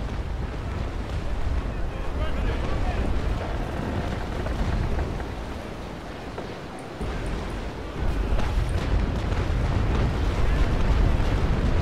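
Cannon fire during a naval battle in the Naval Action video game, a continuous roar of blasts and rumbling booms of sailing warships, with a heavier burst of fire toward the end.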